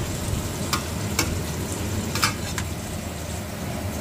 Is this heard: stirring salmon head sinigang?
yes